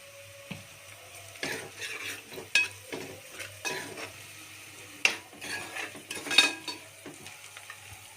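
Onions and ginger frying in a pan, with a spoon scraping and stirring in repeated sweeps and clinks over a low sizzle, nearby and without talk.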